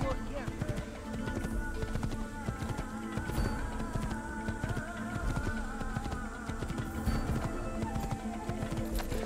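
Rhythmic hoof clops from a horse in Assassin's Creed play continuously over a busy background of game sounds and music.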